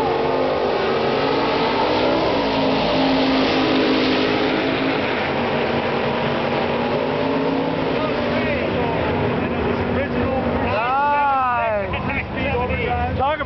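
Chevrolet Camaro drag car running on nitrous at a drag strip: loud, roaring engine acceleration with rising and falling engine tones near the end, a voice talking over the din.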